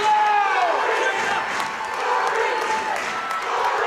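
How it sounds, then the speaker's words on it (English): A home crowd roars and cheers in a gym at the opening serve of a girls 2A volleyball semifinal between Corry and Avonworth, steady and loud throughout, with whistles and calls rising over the din. "Brad Allen has got the Corry crowd rocking early"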